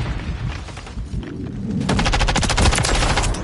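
Rapid automatic machine gun fire in the shooter Call of Duty: Modern Warfare III, a dense stream of loud, close shots that grows heavier partway through, with no voices over it.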